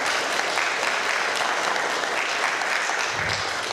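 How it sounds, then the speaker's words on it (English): Audience at a youth brass band concert applauds a quartet, thick continuous clapping filling the hall at an even, strong level for the whole stretch. "can we just give those another round of applause"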